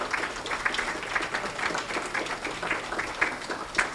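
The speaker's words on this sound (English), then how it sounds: "should stand and get some applause for these folks" Scattered applause from a small audience at a county committee meeting honoring board members and officers, steady hand claps lasting throughout at moderate distance, fairly faint.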